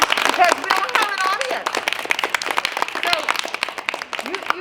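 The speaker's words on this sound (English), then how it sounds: "You gotta clap for yourselves" A group of fourth graders claps for themselves after performing Willy Wonka and the Chocolate Factory: brisk, uneven clapping running throughout, mixed with excited voices and cheers.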